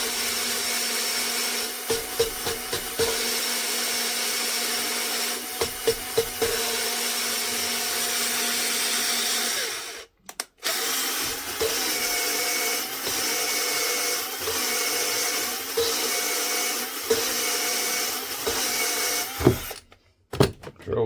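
A power drill runs steadily on a Crossley 1040 engine head during a rebuild, a loud continuous whir broken by brief stops and restarts, with a sharp cut-off around the midpoint and again near the end.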